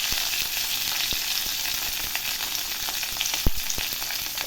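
Dried red chillies and curry leaves sizzle in hot oil while tempering for rasam, a steady close crackling hiss punctuated by sharp pops and spatters, with no talk.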